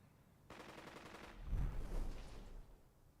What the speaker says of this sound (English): More artillery? Yep.